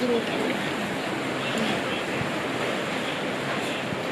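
Sea waves on the shore beside a beach resort make a steady, moderate wash of surf, mixed with some wind noise.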